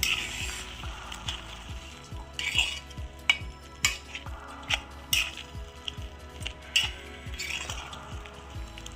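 A pumpkin curry with curd, a Vishu-special sweet pachadi, is stirred in a pan with a spoon, giving a steady run of regular scraping strokes and clinks alongside a soft simmering sizzle, close and clear, with no talking.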